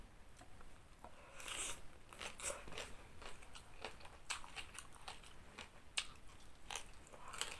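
Crispy pork rinds eaten with spicy som tam crunch in repeated bright, crackling bites and chewing, close to the mouth and fairly quiet, with no talking.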